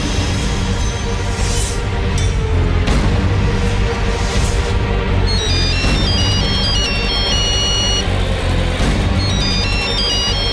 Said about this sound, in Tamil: பின்ன அவர் போன்ல இருந்து போன் வருது